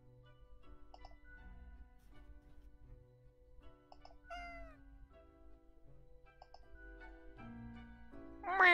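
A cat meows several times, soft and short at first, then a louder drawn-out meow at the end, all over quiet background music.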